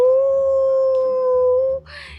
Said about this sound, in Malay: Apa nama anjing tu ah? Anjing.